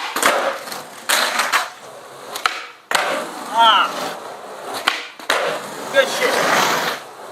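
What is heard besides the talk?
skateboard tricks landing in Emerica Dickson shoes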